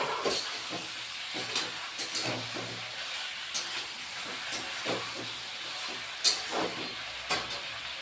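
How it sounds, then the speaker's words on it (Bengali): Broad beans and potatoes fry in a pan with a steady close hiss of hot oil, broken by scattered sharp pops and crackles. "ভেজে নেব"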